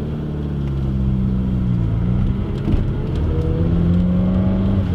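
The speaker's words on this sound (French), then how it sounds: "on entend aussi beaucoup le bruit du capot, en plus de l'échappement" A Citroën AX GT phase 1 hatchback weighing about 700 kg pulls hard under acceleration, with intake roar and exhaust note rising in pitch. The sound is close, continuous and strong, heard from inside the car.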